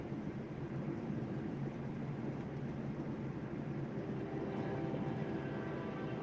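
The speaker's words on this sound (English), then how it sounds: "Y'all hear the train in the background?" A train rumbles past in Irontown, a steady low roar that swells slightly and stays continuous throughout, heard at a distance with no speech over it.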